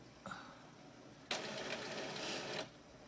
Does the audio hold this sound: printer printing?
yes